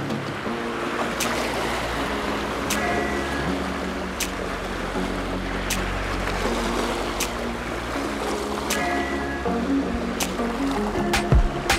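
Restless, choppy water on Loch Katrine in Scotland, a steady washing and lapping with a low rumbling undertone and occasional sharp splashes, no voices.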